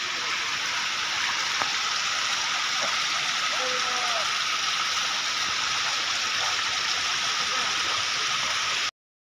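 A constant rushing roar of Sedam waterfall in Surguja, Chhattisgarh, fills the whole stretch, steady and close, with no pauses until it stops abruptly at the end.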